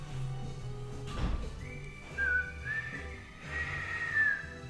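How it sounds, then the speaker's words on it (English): Someone whistles a few short high notes, then a longer wavering tune, over a low steady background hum. "Whistling for the win."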